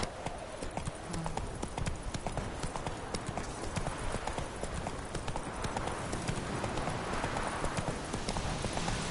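Steady clip-clop of a horse trotting in the video game The Witcher 3, hoofbeats continuous and evenly paced over a dense ambient game soundscape.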